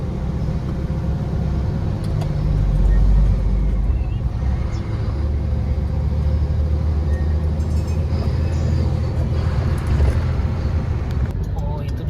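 Heavy road traffic rolls past a truck on the road, a continuous low rumble of engines and tyres with swells as vehicles go by, while someone talks over it.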